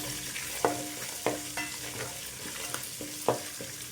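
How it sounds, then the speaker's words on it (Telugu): Green chilies frying in hot tempering oil for gongura pulihora, a steady close sizzle broken by several sharp spatula scrapes and clinks against the pan, with no talking. "మనకి పోపు కూడా మంచిగా చిట్టుపట్లాడేంత వరకు వేగిపోయిందండి"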